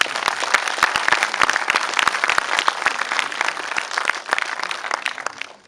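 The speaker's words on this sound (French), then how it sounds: "je voudrais qu'on l'applaudisse" Steady applause from an audience at a season presentation, dense and close, for the director Elsa Toffin, holding even for several seconds before tapering off at the end.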